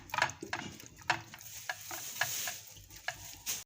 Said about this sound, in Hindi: अब हम इसको मिक्स करेंगे अच्छे तरीके से।